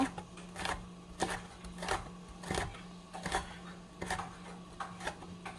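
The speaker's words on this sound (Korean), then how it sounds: "그래서 요거를 가늘게 채를 썰어주세요" A kitchen knife cuts cleaned bean peppers into thin strips on a cutting board, giving a steady series of crisp, evenly spaced chops close to the listener over a faint background hum.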